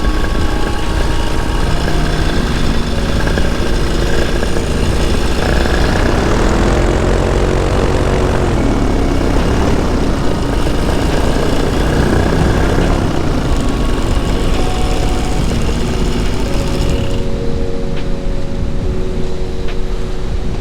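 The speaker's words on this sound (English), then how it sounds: "That was an enjoyable landing." A propeller aircraft landing near a railway and trees, its engine droning loud and steady throughout with a shifting tone as power changes, close by and with no voices.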